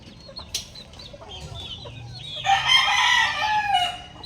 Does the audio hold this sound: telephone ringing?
no